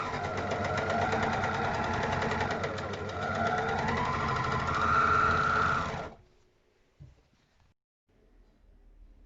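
An overlock serger stitches a fabric face mask, a steady loud mechanical whir running for about six seconds before stopping abruptly, followed by a few faint clicks and near silence.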